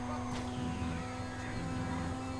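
A jet aircraft in the video game GTA 5 roars in a steady, loud engine drone with a high whine on top and brief swooshing bursts; no one talks over it.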